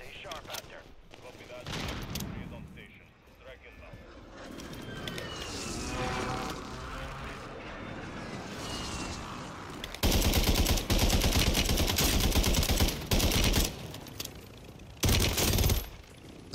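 Bursts of gunfire in Warzone, with an MTZ 762 rifle in play: quieter scattered shots and game noise first, then loud, dense automatic fire in long runs near the end, with a voice talking in between.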